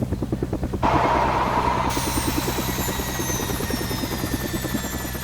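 Steady rotor thump and turbine whine of a helicopter in the game Helicopter Simulator 2014: Search & Rescue, a loud continuous drone with a rising hiss partway through.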